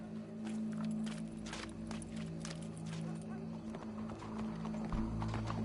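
Horse hooves clip-clopping in Red Dead Redemption 2, a steady rhythmic trot of hoofbeats under a low hum of game ambience, with a faint whinny partway through.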